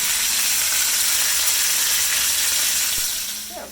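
Chicken fajitas frying in oil in a pan, a loud continuous sizzle that holds steady and then tapers off slightly at the end, with a faint clink near the close.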